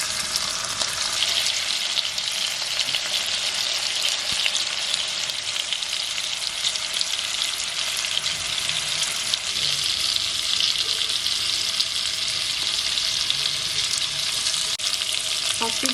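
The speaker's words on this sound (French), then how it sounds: "Chaque bout de viande dans le beurre pour que ça dore un petit peu" Pieces of meat browning in butter in a pan give off a steady, dense sizzle and crackle, close and continuous, with occasional light stirring.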